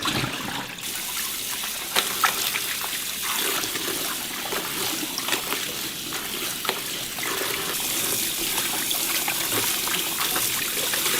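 Salted napa cabbage for traditional kimchi is rinsed in running water from a tap, a steady splashing and trickling wash with occasional clatters, close and continuous with no talk.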